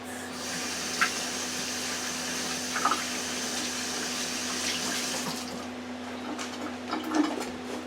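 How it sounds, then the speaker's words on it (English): Hands are washed under a running kitchen tap, a steady close stream of water with a faint hum beneath and a few soft splashes and clinks as the flow is interrupted. "And wash my hands."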